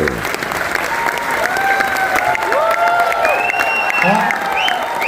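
Loud, sustained audience applause at a Diwali evening event, a steady crowd clapping with some cheering and voices mixed in.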